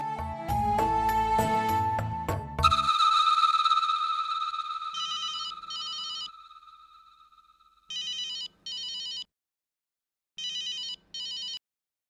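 A telephone rings in repeated short double bursts with pauses between, following a brief stretch of music that fades out.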